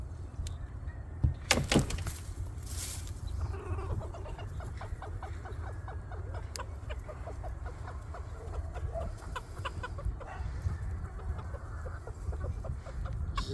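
Chickens cluck and murmur close by in a short rhythmic series, with a couple of sharp knocks early on and steady low background noise.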